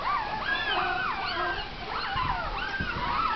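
Sheepadoodle puppies, a Shih Tzu and Poodle mix, whimper and yip in high, wavering cries, several overlapping up close and fairly quiet.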